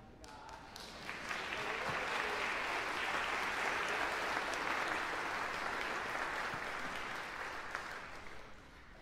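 A church congregation claps for a newly baptized family during a Sunday service, a dense, even round of applause swelling in after a second and holding steady for several seconds before tapering slightly.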